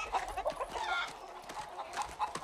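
A rooster in the game Far Cry 6 gives a run of short clucks and squawks over a busy background of soft thuds and rustling, moderately close and fairly faint.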